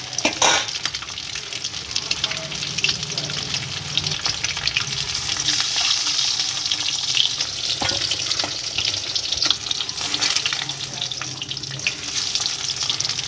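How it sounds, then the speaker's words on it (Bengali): Eggs frying in hot oil in a pan for a Bengali egg curry, a loud, continuous crackling sizzle with occasional spatula scrapes and sharper pops over about thirteen seconds. "ডিমগুলো ভাজা হয়ে গেলে একে একে সব ডিমগুলো তুলে নেব"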